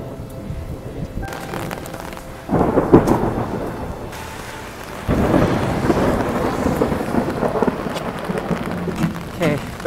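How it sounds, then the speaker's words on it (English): Rain and thunder on a New York City street during a long walk, with raindrops falling steadily and low rumbles swelling twice, the storm noise broad and fairly close with some wind buffeting the microphone. "Raindrops."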